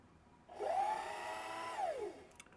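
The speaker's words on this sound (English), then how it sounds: "Wait a minute, my sewing machine was not ready." A sewing machine motor whirs up, holds a steady hum for a little over a second, then winds down, close and fairly quiet with no voices.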